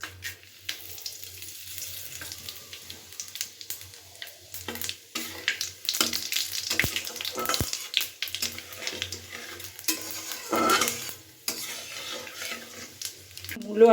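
Radish and vegetable stems fry in oil spiced with dried red chillies, five-spice, radhuni and bay leaves, a soft sizzle broken by scraping and stirring clatter from a utensil in the pan.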